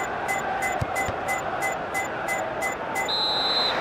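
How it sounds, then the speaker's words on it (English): Referee's final whistle in the FIFA World Cup Germany 2006 football video game on PSP, a series of short evenly spaced whistle blasts ending in one longer high blast over steady crowd noise. "The final whistle."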